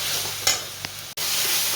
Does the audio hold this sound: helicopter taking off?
no